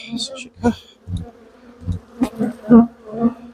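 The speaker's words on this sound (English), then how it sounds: "Grouchy bees and all that." Honeybees buzz close by during a hive inspection, several loud, wavering drones rising and fading in short bursts as individual bees pass near, with brief gaps between them.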